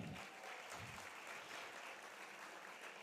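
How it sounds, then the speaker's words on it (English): Sustained applause from an audience at a doctors' forum event in Kuwait, soft and somewhat distant, a steady wash of clapping with no pauses. "So please give them a big round of applause."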